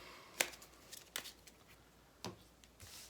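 A deck of board game cards being shuffled, heard as a few sharp, brief riffling bursts spaced apart, quiet and close, with no talking.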